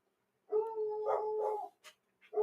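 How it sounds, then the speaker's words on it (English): Dogs bark in a run of loud, sustained, howling barks, followed by a couple of short yelps and the start of another bark, close by and with no talk over them. "Oh, my dogs are barking."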